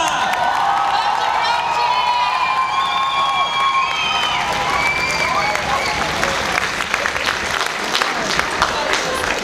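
Audience applause for a band at a church gathering: dense, sustained clapping and cheering fill the room, with voices and sung or shouted tones rising above the crowd.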